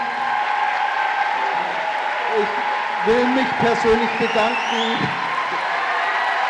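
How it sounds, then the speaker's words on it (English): An audience applauds steadily at the prizegiving ceremony of the International Chamber Choir Competition Marktoberdorf 2025, the clapping sustained throughout while a voice talks over it in the middle. "we have another warm and great applause"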